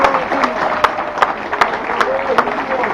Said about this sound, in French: Je vous demande d'applaudir la radio Fréquence Caraïbe sur le monsieur Simon.